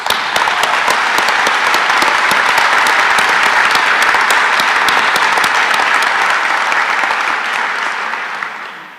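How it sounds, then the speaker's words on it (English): Sustained audience applause fills a nursing pinning ceremony at a community college, loud and steady from start to finish with dense overlapping claps, tapering slightly at the very end. "I'd like to give them all a round of applause,"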